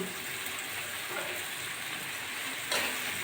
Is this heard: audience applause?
no